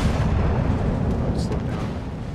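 Warship guns firing during a World of Warships naval battle, a dense rumbling roar of booming gunfire that holds steady and loud throughout.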